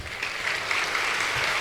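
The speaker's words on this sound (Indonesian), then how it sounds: "Ini yang tepuk tangan kok cuma di belakang panggung ini" Applause coming from behind the stage at an Islamic talk show event, a steady round of clapping at moderate distance without voices over it.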